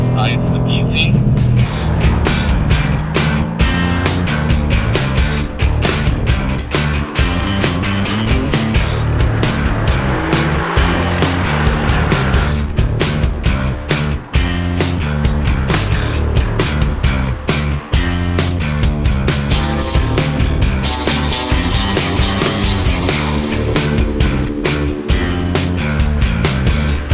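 A Mercedes-AMG GT R Pro on a race track, engine and exhaust roaring loud and continuous throughout, with a dense, steady drone that swells and pulses as it runs hard.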